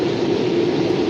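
A Norfolk Southern freight train passing through Beaver Falls, Pennsylvania, heard as a steady, loud rolling roar of rail noise that holds constant throughout, with no voices.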